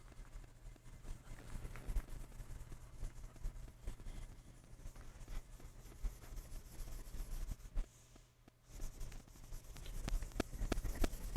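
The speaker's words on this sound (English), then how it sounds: "So I'm going to erase this," Board being erased to clear space during a math lesson, a continuous soft rubbing and scraping that comes in rhythmic strokes, fairly faint and close, without speech.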